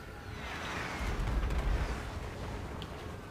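Artillery in Total War: Warhammer thunders as a rolling battery of deep booms that swell to a heavy rumble midway, layered with distant crackling battlefield noise.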